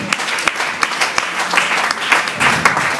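A church congregation at a Sunday service applauds loudly and continuously for about three seconds, dense clapping from a large crowd filling the room with a faint voice beneath.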